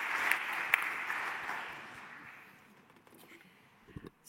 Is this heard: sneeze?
no